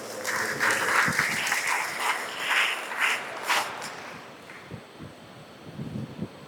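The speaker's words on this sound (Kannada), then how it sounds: "ಜೋರಾದ ಚಪ್ಪಾಳೆ ಮೂಲಕ ಅವರಿಗೆ ಸ್ವಾಗತ" A crowd at a school drug awareness event gives loud, dense applause to welcome a guest; the clapping fades after a few seconds into scattered rustling and light handling noise.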